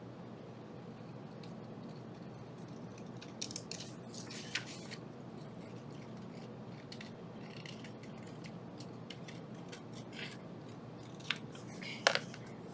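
Scissors snip in a steady series of quiet cuts on a paper template for needlepoint ornaments, with soft crisp clicks and rustling paper against a low room hum.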